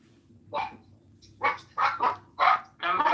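A dog barks several times in quick, irregular bursts, moderately close, with a low background hum underneath and no talking.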